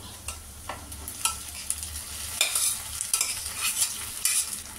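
Boiled jowar being stirred into a hot tempering with curry leaves in a pan, a scraping spoon and soft sizzling in irregular bursts, close by with no talk.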